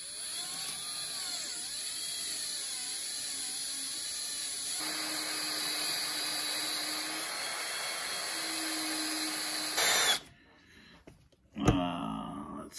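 A power drill fitted with a Master Craftsman bit whines steadily for about ten seconds at close range, with its pitch shifting partway through, then stops, followed by brief clatter.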